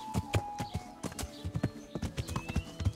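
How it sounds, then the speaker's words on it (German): Horse hooves clip-clop in a steady, fairly close rhythm in the video game Kingdom Come: Deliverance, with a brief neigh among the repeated strikes. "Oh, so ein schönes Pferdchen."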